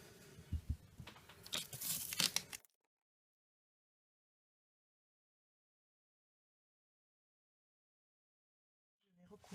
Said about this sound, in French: Je vais recouvrir totalement mon carton avec le double face.